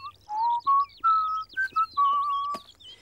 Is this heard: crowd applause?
no